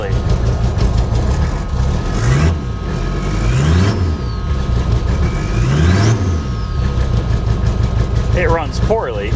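An abandoned Toyota Supra's engine runs roughly at idle while the throttle is blipped several times, each rev rising and falling in repeated surges, with people talking over the engine noise throughout.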